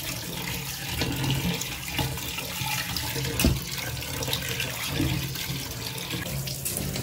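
Raw chicken washed under a running kitchen tap, a steady rush of water splashing into the sink with occasional louder splashes as the meat is handled.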